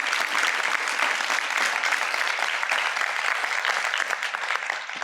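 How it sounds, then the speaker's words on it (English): A crowd claps at a cancer center event, a sustained, even wash of applause lasting several seconds, fairly close and steady, with no voices on top. "Give her a round of applause,"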